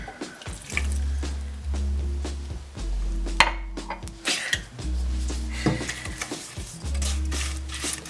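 Water runs from a kitchen tap into a pot for a strawberry and sugar mixture, in several separate pours with clinks of cookware and handling sounds between them, close and moderately loud.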